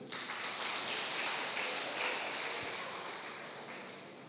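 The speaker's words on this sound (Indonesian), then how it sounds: "Tepuk tangan dulu" A crowd claps steadily for a few seconds, a full wash of applause that slowly fades out.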